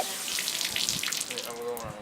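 Heavy water pours and splashes from a soaked blanket pulled out of a washing machine that won't drain, a steady broadband wash of dripping and trickling, with a voice briefly in the background.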